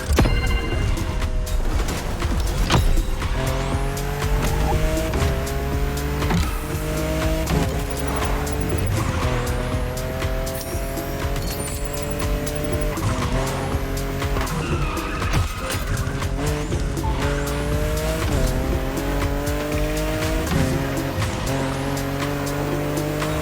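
Ferrari F50 road-legal Formula One car driven hard in The Crew Motorfest, high revving engine with repeated gear-shift sweeps and squealing tires, loud and continuous throughout with no talk.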